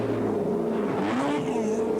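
A race car engine at Oran Park Raceway in the 1984 ATCC, revving hard and rising in pitch as the car is pushed, a loud continuous whine with no voices over it.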